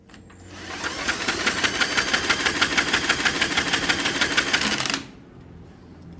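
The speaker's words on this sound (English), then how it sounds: "All right, so the engine spins over freely" A broken log splitter's small engine cranked over, a fast even chugging with rapid mechanical ticking for about four seconds before stopping abruptly, close and loud.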